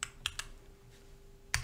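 Keys clack on a computer keyboard while commands are typed into a terminal, coming in two short bursts of a few sharp clicks with a pause between them.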